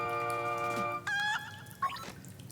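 Rooster in Link's Awakening giving a few short clucking calls over a sustained melodic game music tone, fairly quiet.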